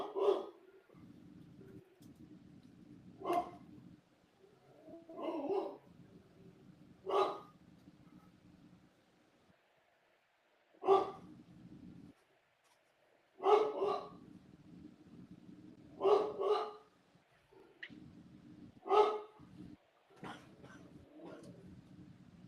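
A dog barks in repeated single sharp woofs spaced a few seconds apart, fairly close and moderately loud, over a low steady background hum.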